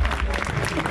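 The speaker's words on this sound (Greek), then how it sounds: "Δυνατό χειροκρότημα στον ένα και μοναδικό freestyler Τουτ Κέι!" Crowd applause for a freestyler at a streetball event in Thessaloniki, a faint, dense patter of clapping heard from a distance over a low background rumble.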